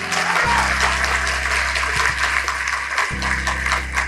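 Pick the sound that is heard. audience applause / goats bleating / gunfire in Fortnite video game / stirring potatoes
audience applause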